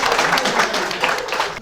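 An audience at a school energy quiz applauding a team, a loud, dense burst of clapping that holds steady for under two seconds, then tails off.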